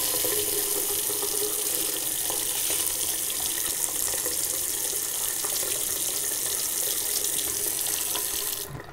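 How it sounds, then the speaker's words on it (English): Water runs steadily from a sink faucet as a syringe is filled for cleaning a Pilot Metropolitan fountain pen, a constant close hiss and splash for about nine seconds that cuts off abruptly at the end. "I would take my syringe and fill it up with water"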